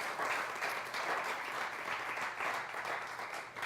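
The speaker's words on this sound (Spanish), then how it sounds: "Denle un fuerte aplauso al Señor." Church congregation applauding during a sermon, a steady wash of many hands clapping that holds at an even, moderate level throughout, with no speech on top.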